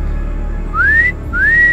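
A person whistles with their mouth, imitating an eerie whistle heard at night in a cemetery setting. Two clear rising whistles, close and fairly loud, are heard over low background hum, with no talking.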